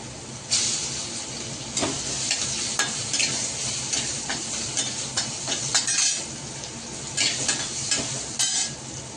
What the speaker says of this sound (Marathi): आता कारलं परतलं मसाल्यामध्ये.